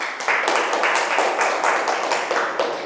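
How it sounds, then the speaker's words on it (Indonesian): Applause in a classroom for a student group: a small crowd of students clapping steadily, with some rhythmic, near and fairly loud sounds throughout and no talk over it. "Tepuk tangan untuk kelompok 2."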